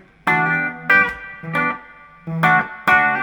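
Electric guitar chords played through a Carlsbro ADR1 analogue effects unit's reverb ring out one after another with a wet, spacious tail, five strums spaced evenly and played close and clear.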